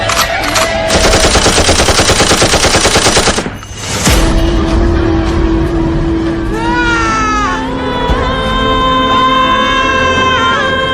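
A loud machine gun sound effect played at a school Republic Day program rattles in a rapid sustained burst, then gives way to a swelling musical drone with rising synth tones, all very near and loud.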